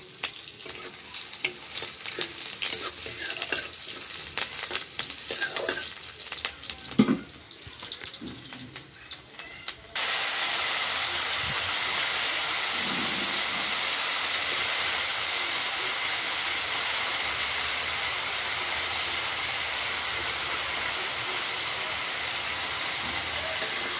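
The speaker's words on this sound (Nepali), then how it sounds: "अब हम आलू र बोडी के पकाइले जा रहल छो" Potatoes and bodi beans cooking in oil: irregular stirring and light sizzling for the first several seconds, then a loud, steady, continuous frying sizzle that carries on alone until the end.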